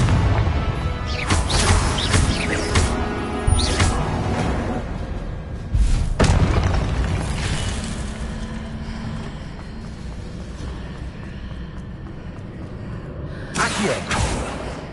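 Confringo spell explosions in the Hogwarts Legacy video game land as a string of heavy booms and thuds at irregular intervals over a continuous rumbling background.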